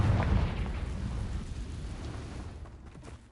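A Confringo blasting spell explodes in Hogwarts Legacy, a booming burst that swells at the start and then rumbles and fades over a few seconds.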